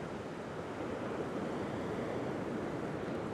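Ocean surf washing steadily onto a fishing beach, a continuous broadband roar with some wind noise, no distinct breaks and no voices.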